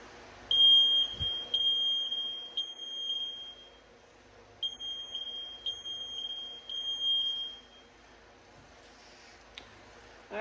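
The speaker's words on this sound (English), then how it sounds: "let's test the next smoke alarm." A vintage smoke alarm shrills in two groups of three piercing beeps during testing, separated by a pause, with faint clicks and handling noise in between.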